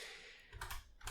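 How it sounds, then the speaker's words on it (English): Computer keyboard typing, a few soft close keystrokes and light clatter over a quiet background, brief and without speech. "I'm just typing it all out or tabbing it all out"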